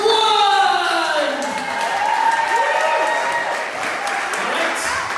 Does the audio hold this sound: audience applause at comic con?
yes